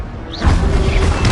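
An Incendio fire spell cast in Hogwarts Legacy: a brief rising whoosh, then a loud burst of fiery roar and crackle that holds to the end.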